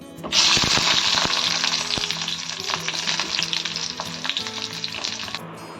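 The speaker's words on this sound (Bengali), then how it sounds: "করবো এখন বেগুন ভাজা কড়াই আমার গরম হয়ে গেছে" Eggplant frying in hot oil in an iron wok makes a loud, close, continuous sizzle that swells at the start and slowly eases, with a few stirring clinks.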